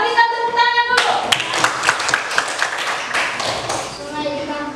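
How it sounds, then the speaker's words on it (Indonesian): A group claps in a loose, brief burst, with spoken voices before and during the applause. "berikan tepuk tangan dulu"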